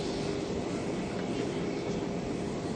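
A jet airplane on the runway at Soekarno-Hatta airport, Terminal 3, a steady, loud engine roar and hiss filling the air continuously without change.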